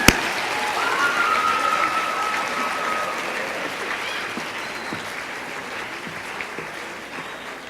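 Audience applause welcoming author Philippa Gregory to a talk at Libertyville High School: a sustained wash of clapping that starts loud and gradually thins and softens over several seconds, with no voices.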